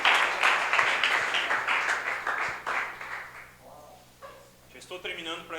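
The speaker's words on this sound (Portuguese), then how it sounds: "Vamos aplaudir Jesus por essa visão abençoada." Church congregation applauding during a family worship service, a burst of clapping that fades out after about three seconds, followed by a speaking voice.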